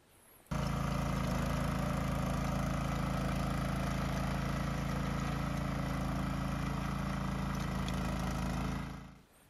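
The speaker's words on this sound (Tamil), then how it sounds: "வண்டி பார்த்திங்கன்னா பெட்ரோல் இன்ஜின் தான் ஓடிட்டுருக்குங்க." A small petrol engine of a mini weeder starts and runs steadily at a constant buzzing idle, loud and close, then cuts off near the end.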